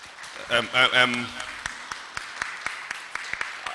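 A lecture audience claps for a team, with scattered sparse claps following a brief spoken phrase, thin and uneven rather than a full ovation.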